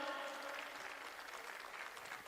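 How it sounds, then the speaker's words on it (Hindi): Audience applause at an All India Karate Federation championship ceremony, a steady, dense wash of clapping that holds evenly for a couple of seconds with a faint voice in the background. "मैं चाहूंगा एक बार जोरदार तालियां हो जाएं।"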